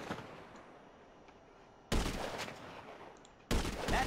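Gunfire in Grand Theft Auto V: two loud, dense bursts of shots break in abruptly after a quieter stretch, the second starting late and running to the end, with a low background rumble between them.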